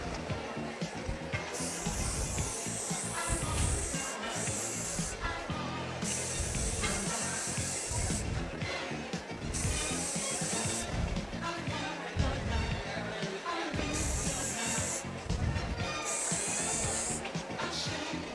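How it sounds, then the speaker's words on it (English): Hair styling spray misted in repeated short bursts during a live salon demonstration at a hair show, with spray hiss rising and falling over steady background hall noise and chatter. "So I'm taking my styling spray"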